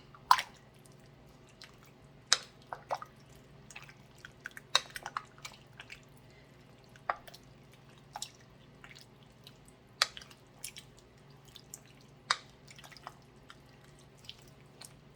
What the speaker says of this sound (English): we're going to add just some water at this point.